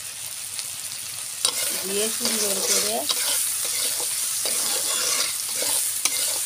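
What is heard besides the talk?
prawns frying and being stirred with onions in a pan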